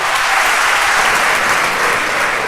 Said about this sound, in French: Sous vos applaudissements, je vous prie.